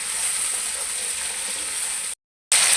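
Spices frying in a curry pan for a tinday and chicken dish give a steady, even sizzle with a constant hiss for about two seconds, then a brief cut to silence before the sizzle resumes.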